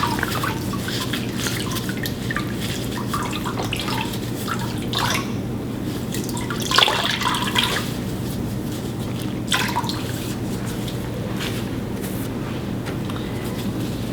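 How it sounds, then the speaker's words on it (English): An orthoglass splint is dipped in water and wrung out by hand, producing steady close dripping and splashing with a few louder squeezes and trickles, and nobody speaking. "You'll then dip the orthoglass into the water. Fan fold, ensuring that you wring out as much water as possible"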